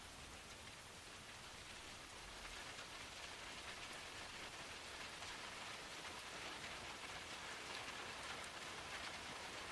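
Steady rain ambience falling on a surface, a soft continuous hiss of drops that stays even and fairly quiet throughout, with no voices.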